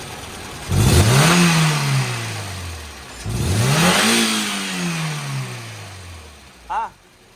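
A Honda car engine revs twice in long rising-and-falling sweeps, each climbing then slowly winding down, heard close and loud, followed by a brief short blip near the end.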